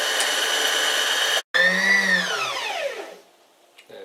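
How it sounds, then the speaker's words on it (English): A Singer Heavy Duty 4411 sewing machine runs at speed while winding a bobbin, a steady loud whirring motor that cuts out abruptly, then restarts and gradually slows and fades to near silence. "simply operating the foot pedal until the bobbin's full"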